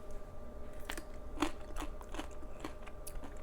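A hard, crunchy beet-pickled carrot is bitten and chewed up close, giving a run of crisp crunches and crackles at an irregular chewing rhythm over a steady low background hiss.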